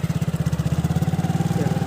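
A motorcycle ridden by a girl at a Bihu festival ground idles close by, its engine thumping in a fast, even pulse, loud and steady throughout.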